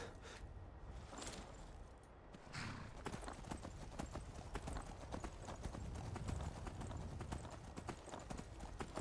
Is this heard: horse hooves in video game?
yes